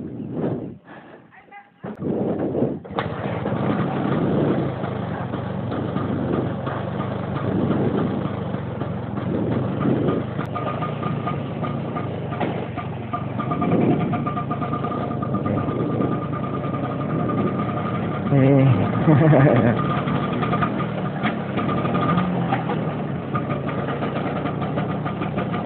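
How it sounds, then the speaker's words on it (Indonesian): A Vespa PX scooter engine runs steadily at night, a continuous mid-pitched hum with a steady tone throughout, rising slightly in places as it rides, loud and close. "Ini rencananya mau jalan-jalan malam dengan Vespa"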